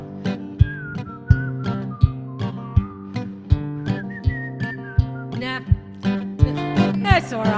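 A person whistles a melodic tune in a steady rhythm, with regular percussive thumps of accompanying music beneath it, clear and close.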